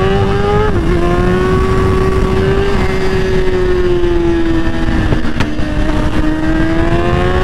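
A 1000cc motorcycle engine drones loud and close while riding, holding a steady high rev with slight rises and dips in pitch and a brief throttle change midway, with no talking.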